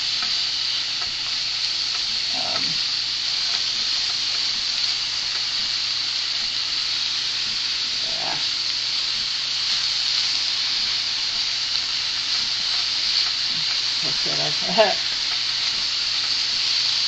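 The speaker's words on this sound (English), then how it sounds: "That's why I'm pre-cooking some of these vegetables right now" Vegetables for a homemade vegetable pizza sizzle steadily in a hot pan as a continuous hiss, with a few occasional stirring scrapes. No one speaks.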